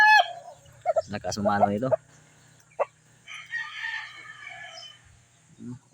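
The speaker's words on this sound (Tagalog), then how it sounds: "Ito yung open air hen ko." An open-air hen clucks and a rooster crows in short bursts near the microphone, with a person speaking briefly between the calls.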